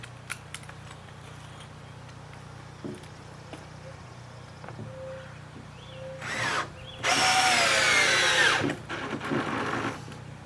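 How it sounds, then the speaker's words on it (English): A power drill bores into wood inside a 2017 Dodge Grand Caravan during a bed build, with short bursts early on and then a loud, sustained high whine for about two seconds near the end. "Drill bit too hot."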